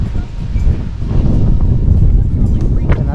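Strong wind gusts across the beach at Coco Cay, buffeting the microphone with a loud, continuous low roar and rumble while a person talks underneath.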